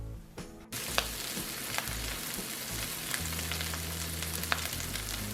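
Cajun blackened tomahawk pork chops sizzle loudly and steadily in a hot pan, the frying starting after a brief quiet moment and continuing with occasional pops and crackles.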